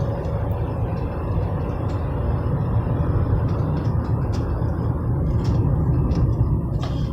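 Car driving along a winding country road, a steady low road and engine rumble heard from inside, moderately quiet with faint ticking and rattles, no voices.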